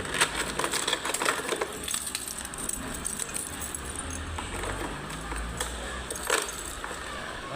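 Keys for a Mio i125 motor scooter jangle and clink in a garage, with small metallic rattles and a few sharper taps at close range and no speech.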